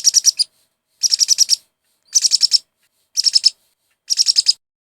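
A pineapple conure parrot gives five close, loud bursts of rapid shrill chirps, each a quick run of sharp notes, spaced about a second apart with silence between.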